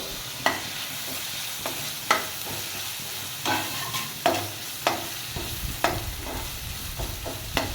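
Tomatoes go into a pan of sizzling ginger-garlic paste for a spicy prawn masala, with steady frying hiss and repeated sharp scrapes of a spatula stirring every half second or so, close and without talk.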